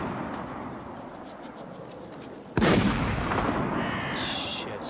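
One loud, sharp sniper rifle shot in The War Z video game cracks midway through a steady ambient hum and leaves a short echoing tail, with no talking.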